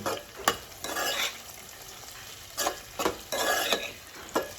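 Chopped tomatoes frying in a hot pan for a Nellore-style fish curry, stirred with a utensil that scrapes the pan in several sharp strokes over a steady sizzle, close and alone.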